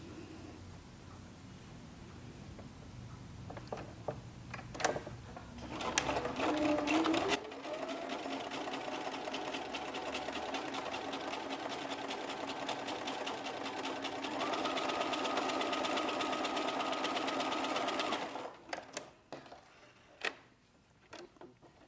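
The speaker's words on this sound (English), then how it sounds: "So this one is just a straight hem, single fold on the fabric, and I'm just using a straight stitch." A sewing machine runs a straight stitch along a single-fold hem on stretch swim knit fabric, a steady close mechanical whir that holds for over ten seconds between shorter starts and stops.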